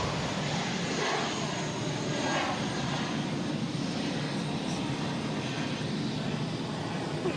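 United Airlines Airbus A319 jet taking off at Boston Logan toward Newark, with a loud, steady broadband engine roar held throughout, no talking.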